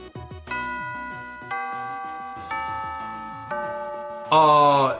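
A Danganronpa-style chime in the game Sweet Fuse: a series of bright, ringing bell tones struck one after another in a steady melodic pattern, each sustaining before the next, ending in a brighter shimmering burst.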